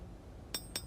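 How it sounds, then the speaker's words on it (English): Two quick ringing hammer blows on a forged small skinner knife blade, tapering the steel on an anvil, close and crisp after a brief quiet moment. "as I hammer in my taper out along the blade"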